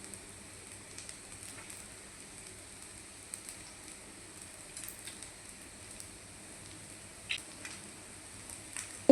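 Chicken fried rice stir-fries in a pan over a high gas flame, a soft, continuous sizzle with occasional light clinks and taps of a utensil against the pan.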